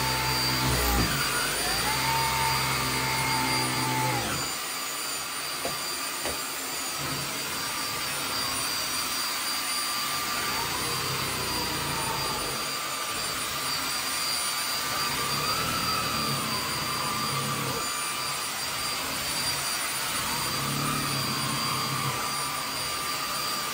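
A Bosch Unlimited 7 Pro Hygienic Aqua cordless vacuum cleaner runs in turbo mode, a loud, steady, high-pitched whine and airflow roar that holds continuously up close, with slight shifts in pitch.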